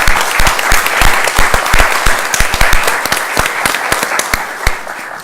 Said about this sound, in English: ask the audience to give you a round of applause for your efforts